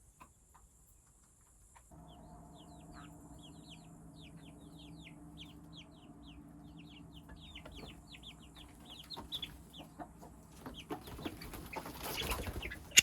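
Chickens and young chicks outdoors make a run of high, repeated peeping chirps over low clucking, quiet at first and growing busier, with a louder rustle near the end and no speech.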